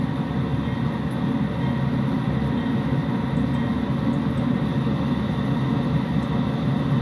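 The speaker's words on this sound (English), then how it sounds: "Hear the motors rev up." A steady, low mechanical drone of video-game locomotive motors from a train simulator hums continuously at moderate volume, with no voices.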